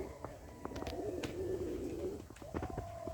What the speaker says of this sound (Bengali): লাহোরি কবুতর গোসল করতেছে নতুন পানি পেয়ে